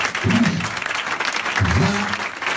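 A congregation claps and cheers during a Friday prayer service, broad steady applause filling the space while a voice carries over it in short sung or spoken bursts.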